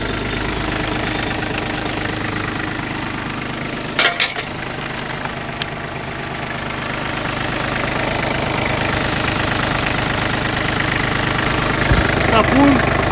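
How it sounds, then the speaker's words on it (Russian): A Kubota KT235 tractor's diesel engine idles steadily with an even, knocking rumble, close and loud, while someone talks over it. "Вот холостой ход абсолютно."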